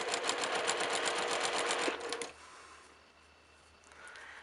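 A sewing machine stitching quilt block squares together with a quarter-inch seam, a fast steady mechanical whir of the needle for about two seconds that then stops, followed by quiet room tone and a faint rustle.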